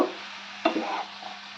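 Bottle gourd being mixed in a pan with salt and turmeric, a brief soft stirring scrape with one sharper knock of the spoon against the pan over a faint hum.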